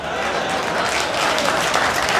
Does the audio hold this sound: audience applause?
yes